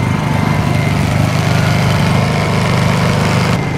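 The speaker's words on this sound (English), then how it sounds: "If you hear the generator in the background" A generator runs nearby at a drag strip, keeping warm the battery of an Energica EGO RS electric motorcycle, giving a loud, steady engine drone that holds without a break.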